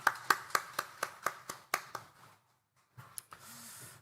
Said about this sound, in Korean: 만드신 하나님께 영광의 박수 올려드리겠습니다.